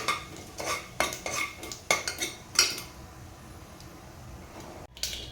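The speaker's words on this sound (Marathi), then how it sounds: "मोहरी थोडीशी तडतडली की त्यानंतर त्यामध्ये घालणार आहे जिरं आणि फोडणी तेलामध्ये छान परतून घ्यायचं आहे." A spoon stirs mustard seeds and cumin tempering in oil in a metal pan, giving a run of clinking, scraping strokes for about three seconds, then a brief quiet stretch and one last clink, with no talking.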